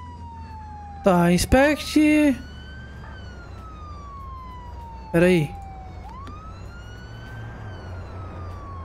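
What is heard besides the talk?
ambulance siren in the video game Flashing Lights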